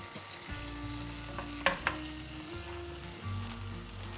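Butter sizzles steadily in a hot pan while being swirled around, with a low background hum and a couple of sharp clinks partway through.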